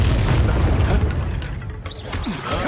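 Confringo spell blasts in Hogwarts Legacy, booming, rumbling explosions that fill the clip and fade, with short whooshing magical sweeps near the end.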